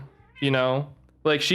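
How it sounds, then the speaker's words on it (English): A house cat meows twice, close and loud, with two drawn-out cries separated by a short pause, while a person talks. "Oh, that's my cat."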